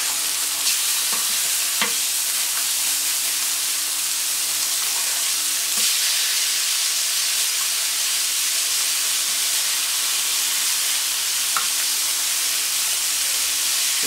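Pieces of duck breast (magret) sizzle in a pan with soy sauce, a steady, dense frying hiss close by that holds for the whole stretch, with a few faint clicks of stirring and no voices.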